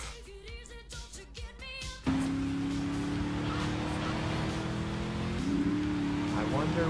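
A car drives in the video game GTA 3 with a loud, steady engine drone that kicks in abruptly after a stretch of talk. The pitch rises slightly later on, and voices are heard at the start.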